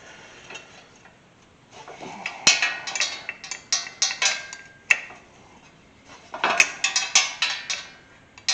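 Metal parts clatter and ratchet in irregular bursts as the fan comes off a 350 small-block Chevy engine during teardown, with close clicks and tool rattles spaced across the span and brief pauses between.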